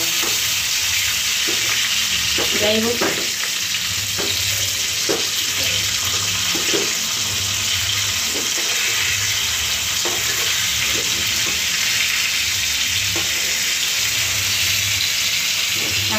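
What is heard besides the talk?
fish frying in a pan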